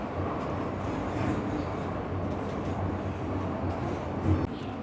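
Hong Kong subway train running fast, heard from inside: a constant loud rumbling roar with steady low hum and occasional rattles, a brief louder clunk near the end.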